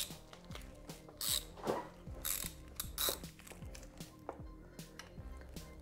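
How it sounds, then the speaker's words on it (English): A ratchet clicks steadily as a 5mm hex bit works the second oil drain plug loose on a BMW F750GS motorcycle, with quick repeated pawl ticks and a few brighter metallic clanks, close and fairly quiet. "we're gonna wanna remove the second drain plug using a 5mm hex bit"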